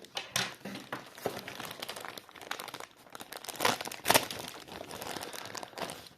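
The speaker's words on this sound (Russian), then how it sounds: "А мы открываем сейчас посылку и покажем, что тут есть." Parcel wrapping crinkles and crackles as a package is opened up close, in irregular bursts of rustling with a few louder crunches and no talk.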